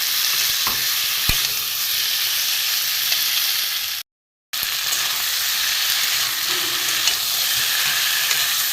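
Boiled taro and potato sautéing with prawns in a pan over a low flame, a continuous close sizzle and hiss with occasional stirring scrapes, steady throughout with one brief dropout, no voices.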